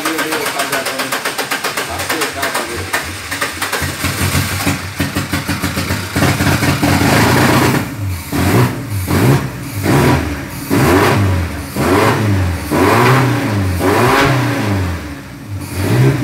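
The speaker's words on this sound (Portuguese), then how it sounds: "O motor tava redondinho e depois começou a dar uns pontos." An Opala car engine with its Weber 40 carburettors removed, leaking fuel, idles roughly, then is revved repeatedly in loud, uneven bursts that stumble and misfire, close by.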